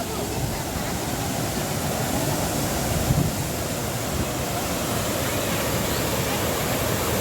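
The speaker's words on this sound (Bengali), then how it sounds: "জলের ধারা হ্যাঁ বয়ে চলেছে" A stream of water flows steadily near Kalyaneshwari Temple, a dense, even rushing wash that carries on unbroken from start to end.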